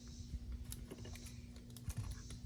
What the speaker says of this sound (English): And I'm gonna go ahead and cut my onion.